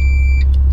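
A jeep's differential lock engages after a button press: a steady high electronic beep over the low idling engine rumble cuts off, followed by two short, soft mechanical clicks.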